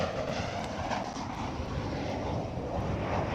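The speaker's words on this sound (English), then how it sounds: "747 taxiing out" A Boeing 747 taxis out at Amsterdam Schiphol airport, a steady broad jet-engine roar and whine heard from some distance, continuous with no talking over it.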